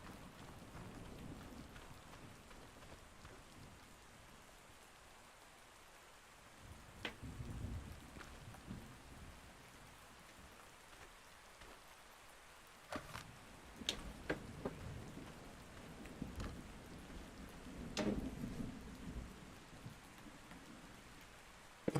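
Rain falls in the video game ARK, a faint, steady patter with scattered louder drops and ticks and a few soft low swells that may be distant thunder.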